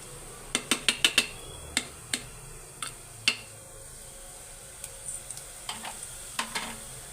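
Peanuts, chili, garlic, cumin and fried curry leaves being pounded by hand, a series of sharp, close thuds in quick clusters with short pauses between, alone and unaccompanied by talk.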